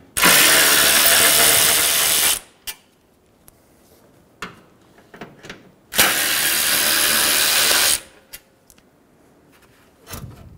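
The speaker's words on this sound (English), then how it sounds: "Now remove the last two bolts that are on the top." Power tool removing the top bolts on a 2007-2011 Toyota Camry 2.4L radiator support, two loud sustained whirring bursts of about two seconds each, separated by quieter clinks and handling noises.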